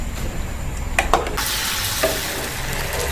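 Payaththam paniyaram dumplings deep-frying in hot oil, a loud continuous bubbling sizzle with a few metallic clinks of a ladle early on.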